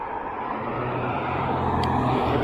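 Traffic on a busy Main Street on a Sunday morning, a steady close rumble of passing cars and engines that swells slightly as a vehicle approaches, with no talking.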